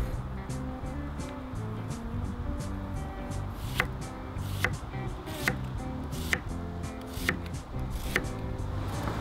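An onion being sliced with a knife on a cutting board, with evenly spaced sharp chops cutting through a constant low background rumble, close by.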